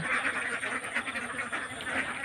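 A dense chorus of about a hundred young laying ducks quacking continuously, many birds at once, steady and moderately loud with no clear pauses.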